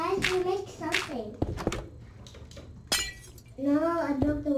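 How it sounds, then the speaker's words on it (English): Glass breaking in Minecraft gives a few sharp shattering clicks in the middle, while someone talks and exclaims loudly around them. "No, I broke the window."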